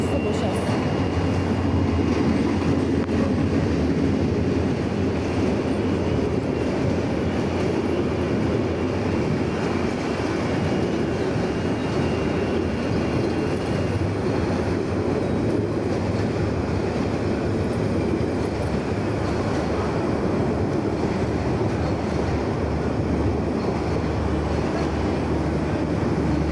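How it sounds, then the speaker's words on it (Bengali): A train rolls past at night after heavy rain with hail, a loud, sustained low rumble and roar that holds steady for the whole stretch, broad and close. "এখানে আবার ট্রেন আসতেছে"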